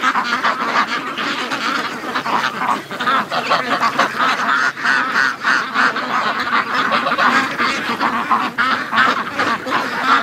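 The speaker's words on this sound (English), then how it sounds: "Oh, you're such a pretty goose." Loud, busy honking from a flock of geese close by, calls overlapping continuously in a raucous chorus with no talking.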